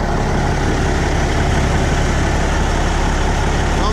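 A Peterbilt 379 truck's Cat 3406B diesel, fitted with a new turbo, idles with a close, steady, gritty rumble, unbroken throughout.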